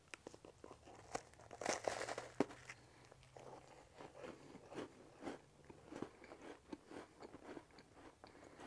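Someone bites and chews a keto, low-carb s'more with toasted marshmallow, giving close, soft crunching and mouth sounds with a faint crinkle, fairly quiet and with no talking.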